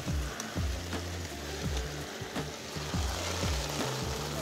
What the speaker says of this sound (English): it started pouring down rain and thunder and lightning.